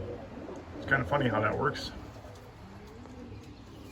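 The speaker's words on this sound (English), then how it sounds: "I know I got quite a few birds in this little loft" Pigeons in a small loft of young birds coo softly and steadily in the background while someone talks over them at close range.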